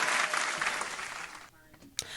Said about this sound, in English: We gotta clap it up again.